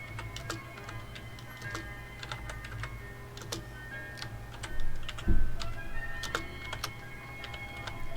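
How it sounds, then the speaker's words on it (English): Someone types on a computer keyboard, with quick irregular clusters of crisp key clicks and short pauses between bursts, close and clear, with a dull thump partway through. "I'm going to type a welcoming message here"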